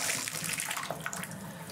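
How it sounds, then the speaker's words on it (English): Very cold water runs from a shower tap in a steady, hissing stream, a constant wash of splashing at moderate volume with no speech. "So right here is a very cold water."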